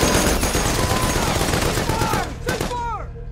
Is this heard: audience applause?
no